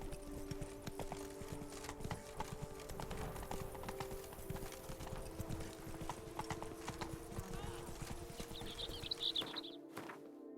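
Hooves of the horse Roach clopping in a quick, steady galloping rhythm in The Witcher 3: Blood and Wine, close and continuous over a low background drone, with a brief higher call near the end and no talking.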